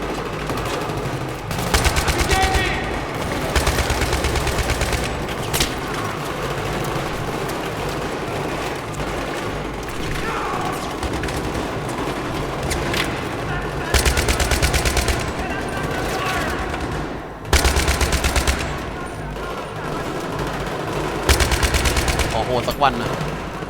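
Gunfire in the video game Battlefield 3 rattles almost continuously in rapid automatic bursts, with louder volleys breaking out every few seconds over a dense background of game noise.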